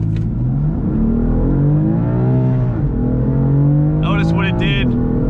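A car with a dual-clutch transmission in MDM mode launches hard from a dead stop, the engine loud and close as it revs up through rising pitch, with a brief dip at a gear change before climbing again and a whistling whine near the end.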